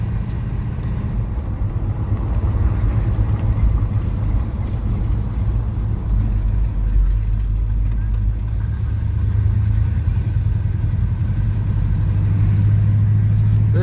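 Chevrolet Monte Carlo engine running after a cold start, a loud, continuous low rumble with throttle swells, heard up close without a break.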